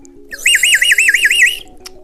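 A shrill warbling whistle is blown on a Melody whistle candy, one wavering trill of about a second and a half, close and loud, with no speech.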